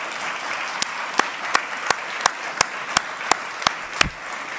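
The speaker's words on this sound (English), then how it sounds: "One more round of applause for our honorees." Rhythmic clapping at a formal Defense Department award ceremony for honorees, with about ten sharp, evenly spaced claps standing out over a low room murmur, fairly close and loud.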